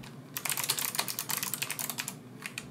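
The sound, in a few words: typing on HAVIT 86-key low-profile mechanical keyboard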